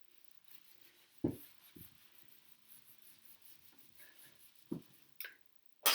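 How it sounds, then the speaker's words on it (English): A classroom board is erased, with soft scrubbing rubs and a few sharper knocks and taps of the eraser against the board, quiet and intermittent. "going to erase this."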